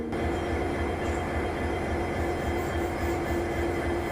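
An Indian Railways WDP 4D diesel locomotive from Ponmala shed hauls a passenger train on the Nilambur–Shoranur line in the rainy season, a continuous loud rumble of engine and rolling wheels heard from aboard, with no talking.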